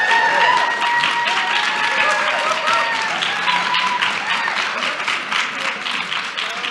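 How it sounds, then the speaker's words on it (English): Warm applause from a conference audience greeting a group of program participants, a dense, steady round of clapping at fair volume that thins slightly toward the end, with a few voices and cheers mixed in. "So let's give them a round of applause."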